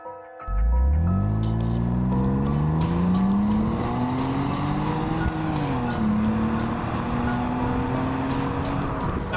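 A 2000 BMW Z3 with a 2.5-liter straight-six making 170 horsepower starts up and drives off, the engine note climbing smoothly through the revs, easing briefly, then pulling again, loud and close with no talking.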